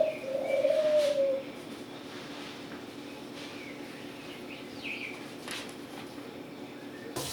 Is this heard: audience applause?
no